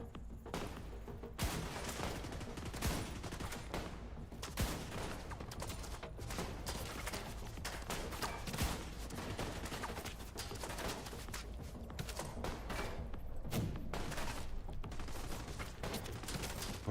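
Dense, continuous gunfire from blind-firing enemies in The Division 2 fills the whole stretch: overlapping rapid shots and volleys at steady high loudness, with no clear pauses.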